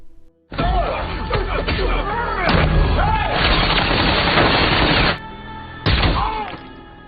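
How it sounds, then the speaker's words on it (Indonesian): A loud explosion from the action film White Elephant erupts, followed by heavy rumbling, debris and a second blast, with a burst of tonal sound near the end, all close and dominating. "Bahkan mengebom tempat Louis agar tidak ada yang curiga."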